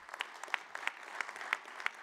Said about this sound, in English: Back then, that's worthy of applause.